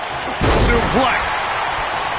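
A suplex slam in the wrestling video game WWE 2K19: one heavy, booming body impact hits the mat, with commentators' voices over and around it.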